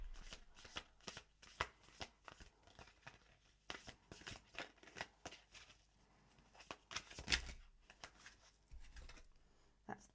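A deck of tarot cards is shuffled close by in quiet, rapid riffling bursts with short pauses between them, soft crisp flutters and taps rather than one steady sound.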